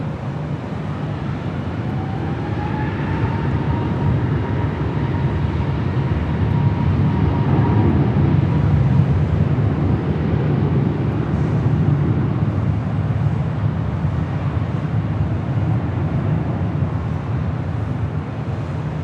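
A Delta airliner takes off from runway 24 Left at Los Angeles International Airport. Its engines give a loud, steady roar that holds for nearly twenty seconds, with a faint rising whine over a broad rumble and wind.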